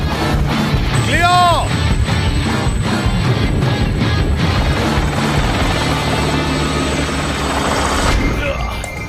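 A helicopter's loud, continuous rotor thrum and engine whine fill the scene, steady and close, as if flying just overhead at about 150 km/h.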